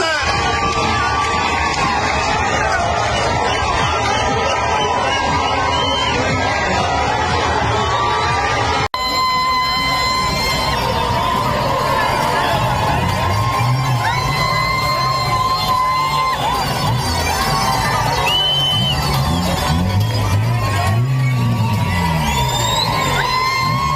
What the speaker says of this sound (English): we saw multiple scenes of massive crowds in Iran, right? In the country where we're doing this, celebrating in multiple places like Tehran and other major cities.